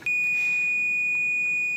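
Kitchen timer going off when a pot of Cajun brown jambalaya finishes cooking: a single sustained high electronic beep tone held steadily and clearly for nearly two seconds in a quiet room.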